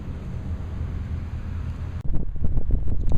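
Wind on a desert golf course buffets the microphone, a steady low rumble that abruptly grows louder and gustier partway through, with no one speaking.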